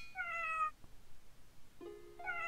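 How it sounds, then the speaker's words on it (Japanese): Cat in a Japanese blacksmith-life video game, Buki ni Negai wo, meowing loudly twice, a long wailing meow then a pause before another drawn-out cry, clear and close with no talk over it. "この猫がすごい泣いている理由、なぜだかわかりますか"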